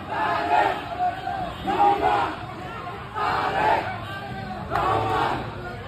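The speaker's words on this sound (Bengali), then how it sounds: "নেতাকর্মীরা বেগম জিয়াকে বরণ করে নিচ্ছেন এবং সেই সঙ্গে তারা স্লোগান দিচ্ছেন" Party activists chant slogans in rhythmic bursts at the residence gate of Begum Zia, a crowd of voices rising and falling in four or five loud waves with brief lulls between.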